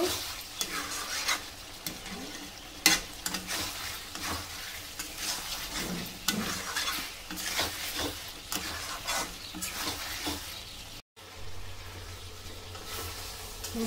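Pakistani-style chicken masala is stirred and sautéed in a pan, a soft continuous sizzle with the scrape of a spoon against the pan and occasional light clinks, fairly quiet and close, with a brief dropout near the end.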